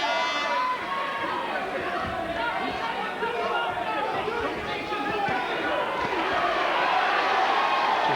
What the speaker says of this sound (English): The crowd chants Stephen, Stephen.